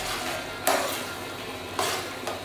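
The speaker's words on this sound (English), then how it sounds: "keep giving it a stir" Mango chutney with garam masala stirred in a pan over steady heat, a soft continuous simmering hiss broken by two brief louder scrapes of the spoon against the pan.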